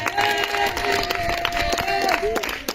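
A church congregation at a spiritual combat prayer service loudly acclaiming Jesus Christ, a dense crowd of shouting and cheering voices with some sustained tones running through it.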